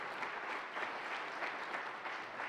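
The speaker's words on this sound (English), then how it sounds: "I want to hear a big applause for that" A conference audience gives sustained applause at a journalism ethics gathering, a fairly soft, even patter of many hands clapping from some distance, unbroken for a few seconds.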